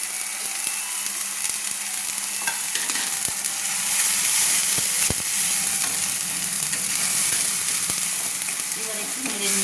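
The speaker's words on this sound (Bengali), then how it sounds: "এবার একটু নেড়ে নিচ্ছি। মশলাটা ভাজা ভেজে নেব।" Ground spices with chilli powder, turmeric, salt and sugar fry in hot oil, sizzling steadily and close up, with scraping stirs and occasional clicks of the spoon against the pan throughout.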